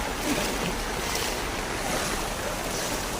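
Steady rushing and sloshing of knee-deep flood water in Pasig fills the clip continuously, a broad churning wash with no voices, like someone moving through deep water.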